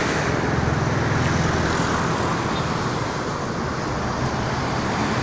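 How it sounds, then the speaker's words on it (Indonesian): Heavy, dense traffic on the Jakarta–Cikampek toll road, with private cars and night buses. It is a loud, continuous roar of passing vehicles that holds steady throughout, with no one talking. "Ini sangat ramai untuk arus lalu lintas, baik itu yang dari arah Jakarta maupun yang dari arah Cikampek"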